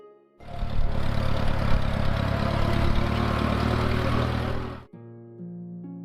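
Massey Ferguson 35 tractor engine running steadily at a loud, even idle-like drone for about four seconds, then cutting off abruptly, leaving a faint tonal hum.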